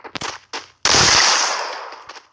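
Gunfire in the video game Free Fire: a few short sharp shots, then one loud blast that rings out and slowly decays, with scattered quieter pops afterward.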